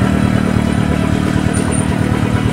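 Motorcycle riding at night on a very slippery road during a landslide: steady, loud engine drone with rough clatter throughout, close up and continuous, with no talk.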